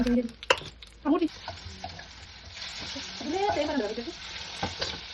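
Fish frying in hot oil in a pan, a steady crackling sizzle with a few stirring scrapes, close and moderately loud, no talk.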